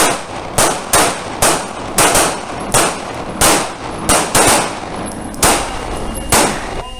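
Pistol shots at an outdoor shooting range, fired one at a time in a steady run of about a dozen sharp cracks, each with a short ringing tail, loud and close, with no talk over them.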